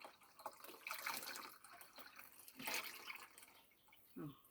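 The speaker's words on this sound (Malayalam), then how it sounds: "അപ്പോൾ നമുക്ക് ഈ കപ്പിലേക്ക് ഇങ്ങനെ ഒഴിക്കാം" Cooled hibiscus juice poured from a vessel into a cup: soft, close liquid splashing and trickling in a few uneven bursts, quiet overall, with no voices.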